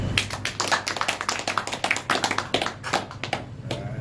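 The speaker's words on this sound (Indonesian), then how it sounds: "Wow, tepuk tangan." An audience claps at an Ansor community gathering in Semarang Utara: dense, rapid, steady applause from many hands, loud and close, continuing throughout without speech.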